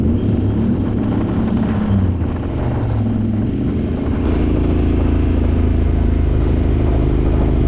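A Honda Talon UTV running in I-4WD mode, a loud, steady engine drone with heavy rumbling wind buffeting against the microphone, continuous and close throughout.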